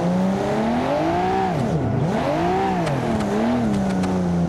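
A car engine revs in the BeamNG.Drive video game, loud and close throughout, dipping sharply then climbing and surging again with a rising and falling whine.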